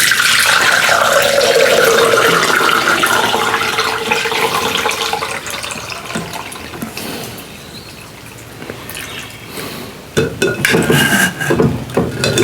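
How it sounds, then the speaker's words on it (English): Peach liqueur runs through a mesh strainer, a loud close splashing pour that thins to a light trickle and drip midway, then surges into heavier pouring again near the end. "I got a mesh strainer here, so all we want to do is strain"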